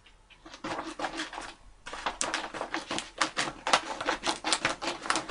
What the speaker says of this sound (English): I'm going to cut another piece of acetate. And let's just snip it off someplace right in here.